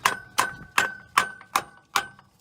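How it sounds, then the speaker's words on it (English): A hammer taps a big socket to drive off a tight starter dowel pin on a 2006 Nissan Titan, six evenly spaced metallic strikes with a ringing tone, close and alone. "we're just gonna have to tap on it with a hammer"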